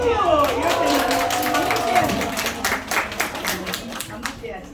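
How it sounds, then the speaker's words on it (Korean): An audience claps after a story about a tortoise beating a hare, with scattered hand claps spread across the clip over a voice speaking throughout. "박수"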